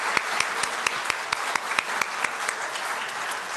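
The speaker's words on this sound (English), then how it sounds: "Let's give them all a round of applause again." A congregation applauds at a Unitarian Universalist service, steady, dense clapping from many hands filling a hall, with a few sharper individual claps standing out throughout.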